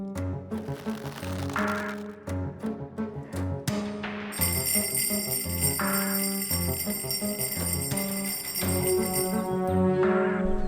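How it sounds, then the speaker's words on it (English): Bright chiming bells ring repeatedly in a rhythmic pattern, growing fuller and layered with sustained metallic tones partway through, with no talking. "Did you hear that? It's Hans Bell. He's telling us to pull him up"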